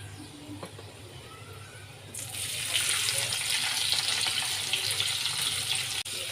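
Onion added to oil with garlic already browned, cooking in a pan; a quiet scrape gives way after a couple of seconds to a louder, steady hissing sizzle that continues close up.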